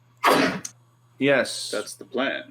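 A sharp, close sneeze bursts out at the start, loud and abrupt, followed by a pause and then a person speaking.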